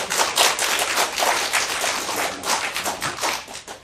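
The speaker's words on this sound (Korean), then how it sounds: "그럼 목사님한테 박수 한번 치세요." A church congregation applauds their pastor, a dense, steady wash of many hands clapping indoors that fills the whole stretch without pause.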